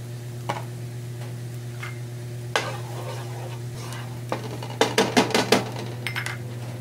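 Onion being sautéed for Bangus Bicol Express, a steady low sizzle with sporadic scrapes and a quick run of close, sharp spatula clacks against the pan near the end.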